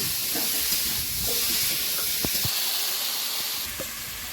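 Okra fries in a pan with a loud, continuous hiss and a few faint knocks and taps underneath, close and steady throughout with no speech.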